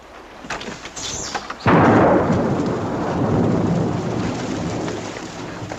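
A sharp thunderclap cracks nearby, then rumbles on over steady heavy rain that fills the rest of the clip.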